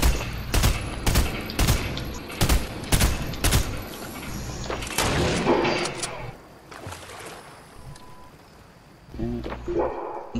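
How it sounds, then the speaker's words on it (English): Loud bursts of gunfire in the video game Fortnite, several sharp shots in quick rhythm over the first half, then quieter ambience with a few more impacts near the end. "somebody's shooting at me"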